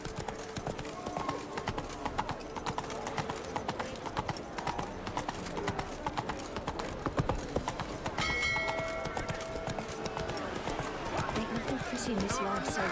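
Roach the horse gallops in The Witcher 3, a rapid, continuous clip-clop of hooves running steadily beneath game music and effects, with a brief whinny-like tone near the middle.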